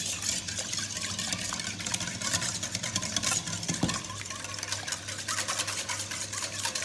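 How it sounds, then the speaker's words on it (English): An egg yolk is whisked into quiche custard in a bowl, a fast steady scraping and rattle that keeps going without a break, close and fairly loud. "we're going to whisk this together"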